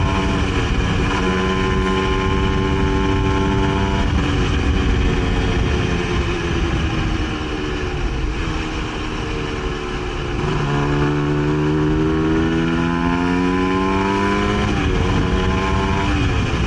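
Honda NSR SP 150 two-stroke motorcycle on its standard exhaust, running loud and close with a buzzy, raspy idle that rises and falls through several revs and gear-like pitch sweeps, no talk.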